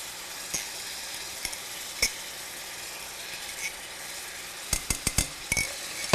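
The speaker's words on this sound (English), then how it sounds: "You hear that sizzle?" Steady sizzling of sauce hitting a hot skillet, with sharp clicks and clatters of utensils near the end.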